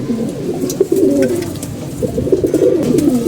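Pigeons coo repeatedly in low, throaty rolling calls, close and fairly loud, with no talking.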